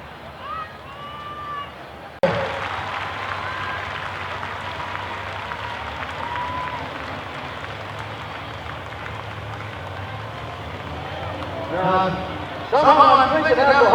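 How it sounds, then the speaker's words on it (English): Crowd at a county fair truck and tractor pull cheering and clapping for a Ford puller, a broad roar of applause that rises suddenly and holds, with voices and a louder surge near the end. "there's a whole bunch of Ford fans cheering for him on his way out"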